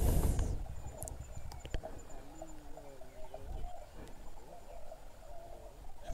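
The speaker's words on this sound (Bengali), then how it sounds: "বিভিন্ন রকম পাখির আওয়াজ আর ঝিঝি পোকার ডাক।" Assorted birds call and crickets chirp across a quiet valley at a sunset viewpoint in monsoon Odisha, faint and distant, with a brief loud burst at the start and scattered calls throughout.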